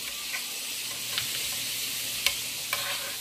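Pork chops sizzle in a frying pan with a steady, fairly quiet hiss, and a few sharp clicks and taps sound as they are turned over.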